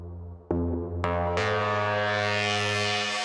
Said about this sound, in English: I'm using this Moog synthesizer, and it is actually taking the MIDI note in and translating that to sound